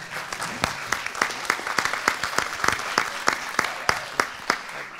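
An audience claps for the winners of a startup contest at Web in Lorient 2016. Many hands produce steady, moderately loud applause with distinct individual claps standing out throughout.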